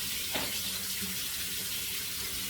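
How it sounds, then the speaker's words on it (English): Tap water running steadily into a bathroom sink, a continuous soft hiss and splash heard up close on its own, with no talk over it. "I'm just gonna get some water in my sink here."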